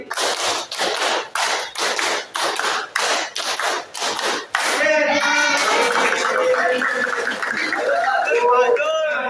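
Students in a classroom clap in a quick rhythmic counted pattern of sharp bursts, then the clapping gives way to lively chatter and voices.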